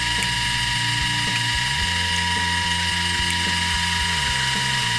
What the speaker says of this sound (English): A little oil, keep the tip of the drill cool, and drill a lot of holes that way.